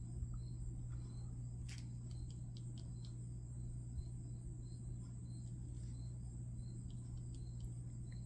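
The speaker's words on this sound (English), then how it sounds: "You can probably hear the crickets." Crickets chirp steadily in the background, faint, continuous high trills against a constant low hum indoors, with no talking.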